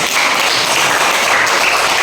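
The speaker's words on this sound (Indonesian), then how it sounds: "sekali lagi kita berikan tepuk tangan" Applause from a classroom audience, a steady dense patter of many clapping hands filling the space evenly and fairly loudly throughout.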